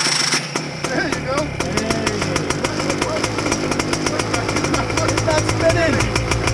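A paramotor's engine runs with its propeller spinning, a loud, close, buzzing rattle with a steady rapid pulse throughout, while people talk over it.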